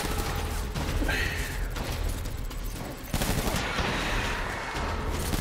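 Gunfire in the video game Death Stranding: several rapid shots and bursts with mechanical clatter, loud and close over a steady game soundscape, with some talk in the background.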